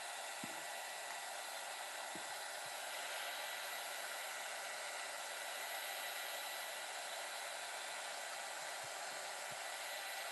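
A hair dryer blows steadily on painted clay pieces, a loud, even rushing whoosh that runs unbroken from start to finish with no voices.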